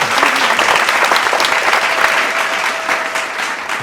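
Audience applauding at a magic show at the Magic Planet magic theme park, a dense burst of many hands clapping close by, steady throughout and fading slightly toward the end.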